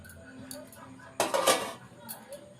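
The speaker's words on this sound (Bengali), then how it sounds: "আমরা একবার ঢাকাটা খুলে একবার দেখে নেব" A metal lid comes off a cooking pot with a short, loud clattering scrape in the middle, surrounded by quiet kitchen background.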